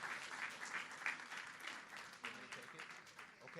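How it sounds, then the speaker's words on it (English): Audience applause at a morning business networking event, a steady wash of clapping filling the room, moderately loud and fairly dense, with some voices mixed in beneath it. "Give him a round of applause"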